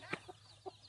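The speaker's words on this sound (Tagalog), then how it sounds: "ang dami ng manok ng lolo ko" Three quick, soft clucks from a chicken, spaced apart and faint, over a quiet background.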